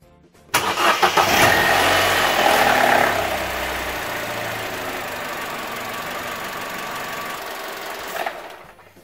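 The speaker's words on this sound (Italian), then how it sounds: "Ora andiamo a far girare il motore per qualche istante." Opel Corsa 1.2 A12XER engine starting after an oil change, then settling into a steady, close, even idle for several seconds before it is switched off.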